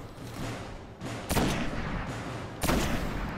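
Gunfire in the video game Destiny: two sharp, loud weapon blasts about a second apart, each followed by a brief decay, over a steady background game soundscape.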